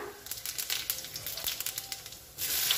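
Cumin seeds crackle and sizzle in hot oil, a quiet stream of fine popping and hissing that swells louder near the end.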